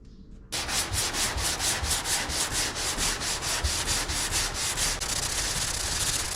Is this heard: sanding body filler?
yes